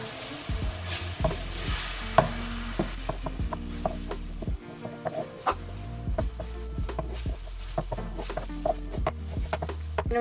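Eggs scrambled and stirred in an oiled frying pan for a budget family dinner, with a steady sizzle and repeated scraping strokes of the utensil against the pan, close and clear with no talking.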